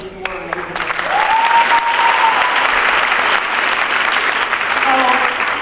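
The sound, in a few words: applause for four guests at a school assembly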